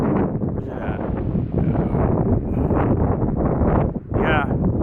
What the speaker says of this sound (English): up here in the high wind